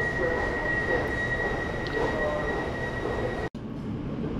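Train at London's Paddington Station, a steady rumbling roar with a high squealing whine held throughout, then an abrupt cut about three and a half seconds in and a slightly quieter continuation.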